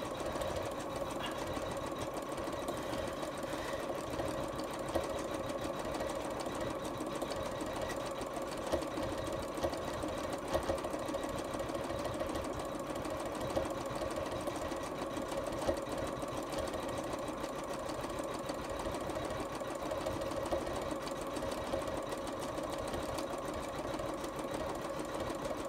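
A sewing machine stitches a fine zigzag around the appliqué of a stuffed toy, running as a steady, even mechanical hum with a rapid needle rhythm, continuous and moderately quiet throughout.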